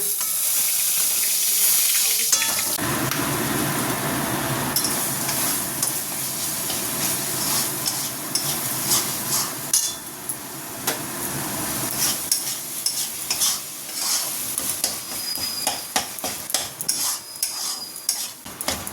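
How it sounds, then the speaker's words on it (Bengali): Loud, continuous hiss of a spice paste frying in a wok, with frequent scraping and clattering of a spatula stirring throughout. "মশলাটা ভালো করে কষা হয়ে গেছে"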